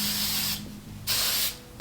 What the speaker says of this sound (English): let me put you guys on to the hairspray that I've been using for years and years. Tried and true is the Tresemme Ultra Fine Hairspray.